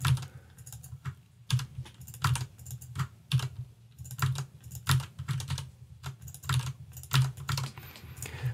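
Rapid clicking on a computer keyboard during copy-and-paste shortcuts, with uneven bursts of close, crisp keystrokes and short pauses between them.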